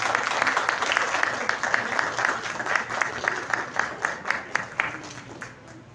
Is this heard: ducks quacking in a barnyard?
no